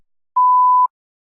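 A single electronic beep of about half a second, a steady pure tone that sounds alone with silence before and after, used as the response cue in a TOEFL iBT speaking practice test.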